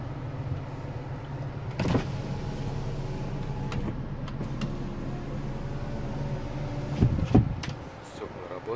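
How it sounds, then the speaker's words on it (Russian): Power windows on a Hyundai Sonata YF run up and down with a steady electric motor whine and a low hum inside the car. Dull clunks sound as the glass stops, the loudest near the end. "Стекла работает."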